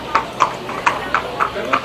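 Horse hooves clopping at a horse beauty contest during a village festival on Lesbos, a steady run of about seven distinct hoof strikes over faint crowd murmur.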